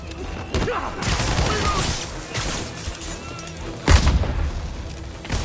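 Gunfire and heavy crashing impacts in a Spider-Man video game, loud bursts early and a sharp blast near the end, with faint shouted voices mixed into the combat noise.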